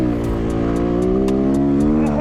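A 250cc Walmart dirt bike engine revs hard and close during a wheelie attempt, its droning pitch climbing steadily and then holding at the top.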